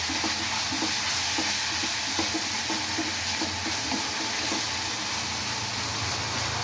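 Ingredients sautéing in oil for a Tamil kudal kuzhambu, a steady loud hiss and sizzle with faint scattered stirring taps throughout, continuous and close.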